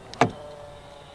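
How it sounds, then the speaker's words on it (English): A 2016 Peugeot 308 THP locks via the keyless front door handle, giving a single sharp mechanical click-clunk of the latches near at hand, followed by quiet. "To lock the car, press the ribbed area on any of the front door handles."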